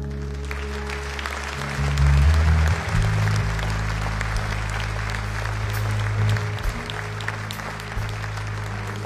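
A church congregation applauds during a Spanish-language Sunday morning service, steady crowd clapping over sustained low organ or keyboard chords.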